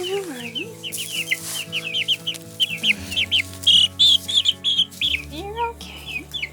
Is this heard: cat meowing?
no